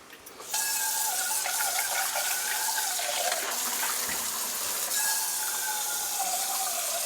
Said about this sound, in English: Take your pot, put some water.